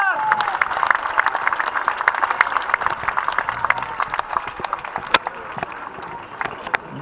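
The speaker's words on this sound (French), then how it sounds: "On peut les applaudir encore une fois," Audience applause at a prize ceremony for the 24-hour sailing race at Trégastel, steady dense clapping from a crowd lasting several seconds, with a voice speaking over it.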